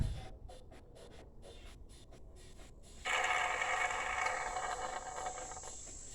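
A shop-vac-powered DIY fluid extractor draws oil out of a car, starting with faint mechanical clicking before a steady, louder rushing suction hiss begins about halfway and holds to the end.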